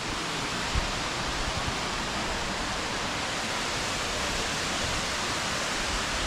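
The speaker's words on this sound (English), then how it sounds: "you can start to see the falls" A waterfall in the Columbia River Gorge gives off a steady, even rushing hiss of falling water, constant and moderately loud throughout with no voices.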